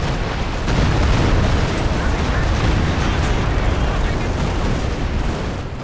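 A Katyusha rocket artillery barrage from Company of Heroes 2 rumbles as a dense, continuous roar of overlapping explosions, loud and sustained throughout with no break.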